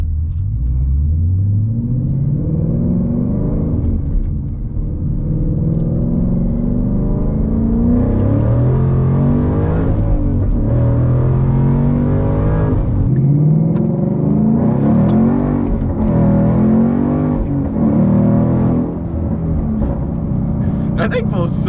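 A supercharged 675 hp Ford Mustang GT accelerates hard through several gears, the engine climbing in pitch with a rising supercharger whine, dropping at each shift and pulling again, loud and close, with voices talking over it.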